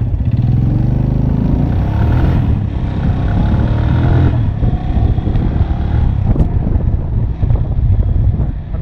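Suzuki GS 150 motorcycle ridden at about 40 km/h, its engine a steady rumble beneath heavy wind buffeting the microphone, with no speech.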